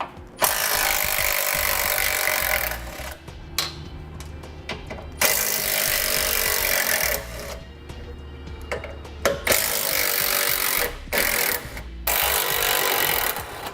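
Power tool, likely an impact gun, spins 13mm bolts off the bumper rail of a 2016 Chevrolet in repeated loud bursts with short gaps between, no talking.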